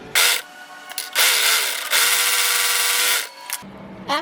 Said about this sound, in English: take this to your sewing machine or your serger and attach your elastic to your neck strap